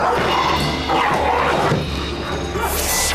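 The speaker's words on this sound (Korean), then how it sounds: "유독 춘향이에게는 으르렁대기 바쁜데요. 그러더니 예고도 없이 갑자기 달려듭니다." A dog growls and lunges at another dog in a home, breaking into a scuffle of barks and yips with a sharp crash, loud and close over a noisy background.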